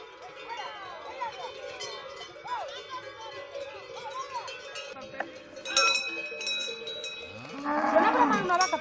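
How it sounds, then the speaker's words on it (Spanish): Cattle moo repeatedly at a distance while cowbells clank and jingle, growing busier toward the end, as the herd is driven up to high summer pasture in Cangas del Narcea, Asturias. "Suena a bramar unas vacas para allí"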